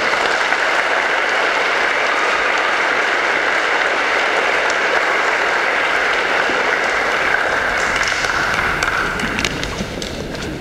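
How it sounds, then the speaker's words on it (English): An audience at a family reunion applauds for a long stretch, a dense, even wash of many hands clapping that holds steady and then begins to taper off near the end. "So let's give Stewart a round of applause as well."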